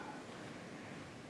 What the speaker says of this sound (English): the waves are pounding the shore